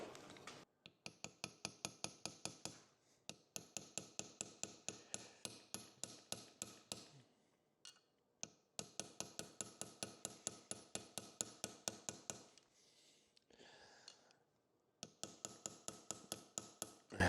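A hammer taps valve seals into place on an engine's cylinder head: rapid, evenly spaced light metallic blows in several bursts, with short pauses between runs, close and fairly quiet.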